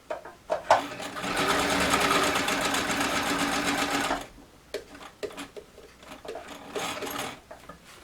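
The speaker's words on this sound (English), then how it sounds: "So I'll go ahead and stitch up to that edge." A sewing machine stitching a fabric pillow cover with cording, a rapid whirring run of stitches lasting a few seconds, then shorter bursts and pauses as the fabric is adjusted, close and clear with no talking.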